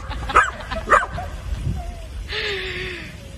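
A frightened dog lets out two sharp barks, then whimpers with a thin, wavering whine, close by, with a little talk in the background.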